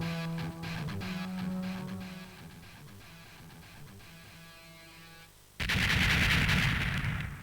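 A three-way spread gun firing in Shock Troopers: rapid repeated gunshots over game music, then a loud burst of blasts near the end, no voices heard.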